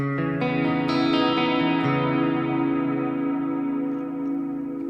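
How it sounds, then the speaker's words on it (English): Clean electric guitar rings out sustained chords alone, the notes blooming and slowly fading with a bright, unprocessed tone. "This is just the guitar by itself."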